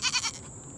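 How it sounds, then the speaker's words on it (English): A pair of young Nubian dwarf buck goats gives a short, fairly close bleat of three quick pulses, with nothing else following. "Also have two new additions to the goat herd."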